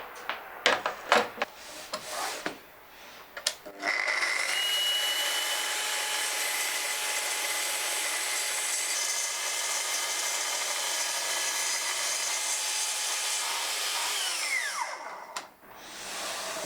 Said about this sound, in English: I'm going to do the same cut on the cross cut and see if it still doesn't splinter.